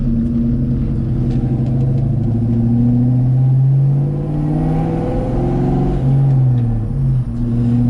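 A 1997 car nicknamed the Slobra, fitted with a stage 2 clutch, is driven, heard from inside as a loud, close engine drone whose pitch rises and falls smoothly with changing revs.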